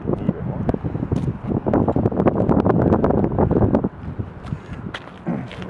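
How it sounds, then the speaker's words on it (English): Strong outdoor wind gusts buffet the microphone at a protest picket, a continuous loud rumble that eases briefly near the end. "It's a little windy."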